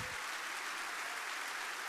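Applause from a church congregation at a Sunday morning service, a steady wash of many hands clapping that starts suddenly and holds evenly at moderate volume, with no voices over it.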